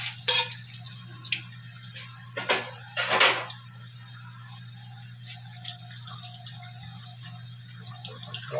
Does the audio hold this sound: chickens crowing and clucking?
no